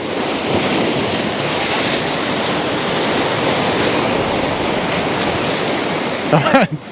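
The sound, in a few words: coastal ocean waves crashing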